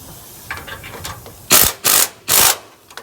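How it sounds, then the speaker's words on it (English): A ratchet wrench snugs the bolts during an SS525 TracBar track bar install. A few light clicks come first, then three loud, close, fast bursts of ratcheting with short pauses between them. "we're going to snug these bolts, then we'll tighten the jam nuts, then we'll tighten these bolts completely."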